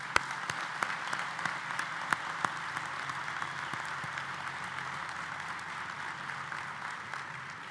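A large commencement ceremony audience applauds to welcome guests, dense, steady clapping that holds at an even level throughout.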